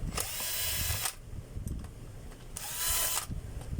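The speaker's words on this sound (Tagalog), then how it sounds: "buksan ko na po yung screw" A power tool whirs in two short bursts while unscrewing screws from a DeWalt DW810 4-inch grinder, running about a second each with a quieter pause between them.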